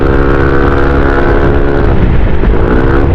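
A Yamaha NMAX 155 scooter fitted with an FCC pulley on its CVT drone at close range, the engine note loud and steady with a slight pitch shift late on.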